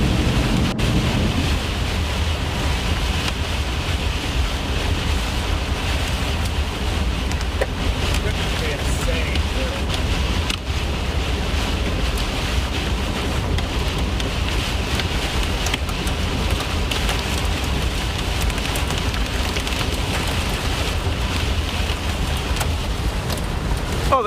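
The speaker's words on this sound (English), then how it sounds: "Oh, there's some big hailstones out there." Hail and heavy rain drum steadily on a vehicle during a thunderstorm in eastern Colorado, a dense, continuous clatter with people talking over it.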